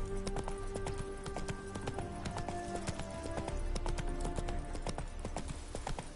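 Roach, Geralt's horse in The Witcher 3: Wild Hunt, gallops with steady, rapid hoofbeats in a clear rhythmic clip-clop that runs throughout, close and quiet against a faint music bed.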